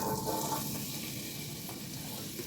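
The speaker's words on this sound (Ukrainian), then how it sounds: "Обсмажую до м'якості або до золотистого кольору." Diced onion frying in a pan over medium heat, a steady soft hiss and crackle of sizzling oil, close up and continuous with no voices.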